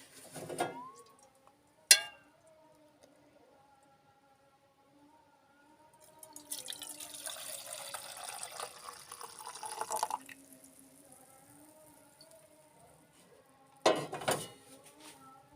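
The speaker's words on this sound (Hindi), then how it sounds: "तो इसे अब छान लेंगे।" Jaggery water being strained through a sieve in a home kitchen: a brief splash, then a soft trickling pour for several seconds, followed by clinks of utensils, quiet and close.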